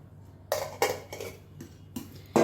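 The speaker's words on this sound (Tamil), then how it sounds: "இது எல்லாத்தையுமே இப்போ நல்லா கலந்துக்கலாம்." Two eggs and a little milk whisked in a bowl: a run of six or seven quick, bright clinking strokes against the side, close up and sharp, with quiet gaps between and no talking.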